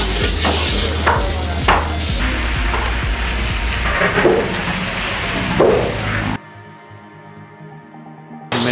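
Cheese chilli frying in hot oil in a street-style Indian-Chinese kitchen, a loud, dense sizzle with stirring and clattering that stops abruptly near the end, leaving a quieter hum.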